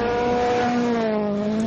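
A Ford Fiesta RS World Rally car screams in at speed on a rally stage, its loud high-revving engine note rising and holding as it closes in, with no talk over it.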